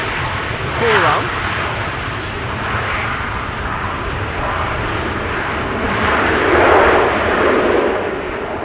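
Airplane arriving on runway 27 at Amsterdam Schiphol on a windy day, a steady broadband roar heard from beside the runway, swelling louder near the end with brief wind buffeting and voices faintly present.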